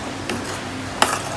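A spoon stirs salt into palak paneer gravy, giving two brief soft clinks against the pan amid low background noise.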